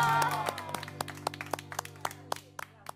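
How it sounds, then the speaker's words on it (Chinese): A few people clap sparsely in a small group on a Chinese reality show set, with distinct separate claps over a faint background hum, fading out and thinning toward the end. "要不要掌声鼓励一下"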